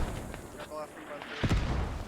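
Mortar fire in a war video game, a single deep booming blast near the end after quieter rumbling and faint distant thuds, with talk faintly underneath.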